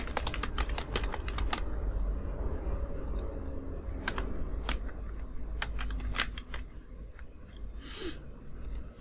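Typing on a computer keyboard while filling in an online resume builder form: quick irregular bursts of close keystroke clicks with short pauses between them, over a low steady room hum and no talk.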